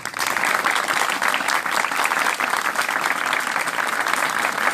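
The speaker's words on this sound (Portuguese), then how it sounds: "eu queria pedir uma salva de palmas para os organizadores" Sustained applause from an audience at a university lecture, given for the event organizers; a dense, steady wash of clapping hands continuing for several seconds without pause.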